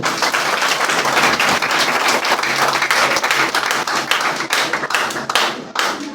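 Congregation members in a church applaud, a loud dense clapping that carries on steadily for several seconds with a few sharper claps standing out.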